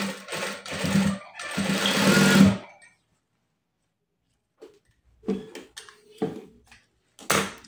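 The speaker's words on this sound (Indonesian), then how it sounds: "Di akhir kita kunci jahitan." A sewing machine runs in two close, steady buzzing bursts to lock the stitch on a child's school shirt, then falls silent apart from a few soft handling knocks.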